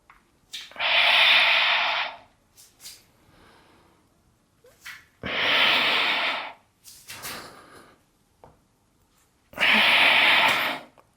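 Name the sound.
deep breathing, inhaling and exhaling during exercise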